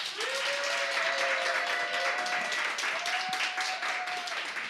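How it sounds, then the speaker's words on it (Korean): An online audience at a youth and student rally opens the event with applause and cheering, a steady wash of clapping with sustained shouted or whistled tones over it, moderately faint. "모든 분들의 큰 박수와 함성으로 시작해 보도록 하겠습니다"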